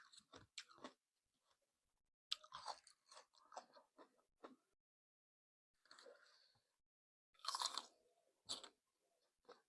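Crunchy Thai candied jujube fruit chewed close to the mic, in crisp bursts of biting and crunching separated by short quiet pauses.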